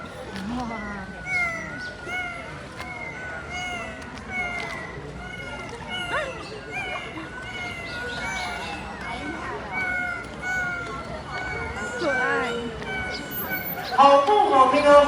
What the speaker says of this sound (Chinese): 其实这两位海豚每一位的叫声都不太一样哦。